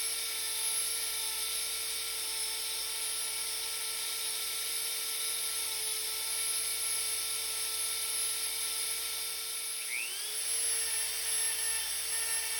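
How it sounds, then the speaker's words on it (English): A Dremel rotary tool fitted with a drum sander grinds against resin, giving a continuous high, whining drone that holds steady and close throughout, with a brief pitch sweep near the end. "This is Dremel drum sandpaper. It works really well with resin."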